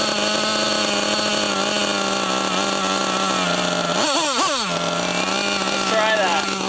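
Small gas engine of a Losi LST XXL2 1/8 scale RC truck idling loudly and steadily with a high buzzing drone, briefly revving up and down partway through, close by.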